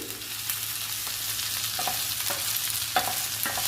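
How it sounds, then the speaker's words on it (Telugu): Ivy gourd (tindora) pieces frying in a pan, a steady, dense sizzle with a few soft scrapes of stirring, close and even throughout. "దొండకాయ ముక్కల్ని బాగా ఫ్రై చేసుకోవాలి"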